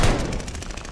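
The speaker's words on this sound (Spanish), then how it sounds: "¡Disparos en el punto caliente!" Rapid automatic gunfire in the video game Call of Duty: Vanguard, a fast burst of repeated shots in under a second, moderately loud.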